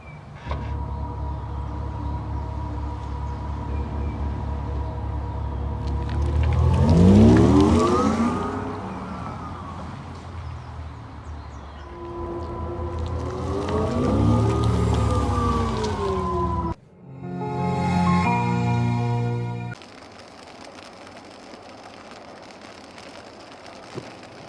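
A synthetic low-speed driving sound from an Audi e-tron 55 quattro electric SUV, a loud tonal hum that sweeps up and down in pitch twice like a rising and falling whine, followed by buzzy electronic tones.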